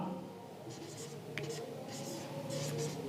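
Chalk or marker strokes on a board during a Hindi maths class on the mean, soft scratchy bursts in short groups under a low steady room hum.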